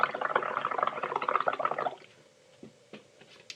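Bubbles blown through a straw into paint for bubble printing, a dense run of gurgling bubbling for about two seconds, then quiet with a few faint pops and drips.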